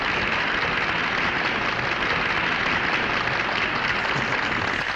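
An audience claps steadily and evenly, a dense, continuous wash of applause that holds at the same level from start to finish with no voices over it.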